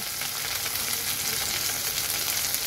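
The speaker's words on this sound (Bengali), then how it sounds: "দেখো মাছটা কিন্তু খুব সুন্দর ভাজা হয়ে গেছে" A fish sizzles and spits as it fries in hot oil in a pan, with a steady, dense crackle close by and no voices.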